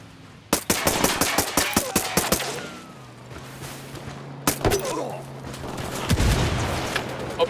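Bursts of rapid gunfire crack in the video game Ghost Recon Wildlands, first a quick string of shots, then a pause, then another burst, with heavy thuds and rumbling in between.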